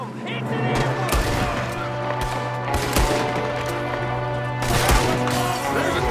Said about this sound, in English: There's another one shooting from a window!